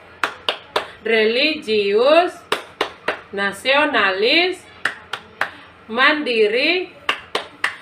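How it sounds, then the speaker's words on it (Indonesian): A fourth-grade class does the PPK clap in unison: loud, sharp rhythmic claps in quick patterned bursts that alternate with the whole group chanting words together. "kita lakukan dengan bertepuk PPK"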